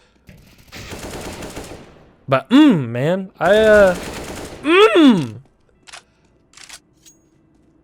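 Automatic rifle fire from a competitive CS:GO match comes in sprays of rapid shots, mixed with a voice talking over the gameplay.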